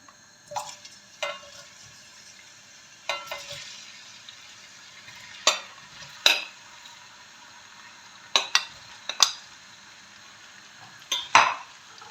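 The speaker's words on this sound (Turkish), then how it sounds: "Şimdi doğramış olduğum patateslerimi bu yağın içine ilave yapacağım." A steady hiss of chopped potatoes frying in hot oil, broken by several sharp clinks and scrapes of a utensil against the pan.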